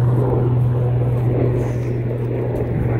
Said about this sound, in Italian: Ecco l'elicottero che sta di nuovo caricando